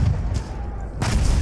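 A tank fires in Battlefield 1 online multiplayer, heavy booming blasts rolling under continuous battle noise, with a fresh loud blast breaking in after a short lull.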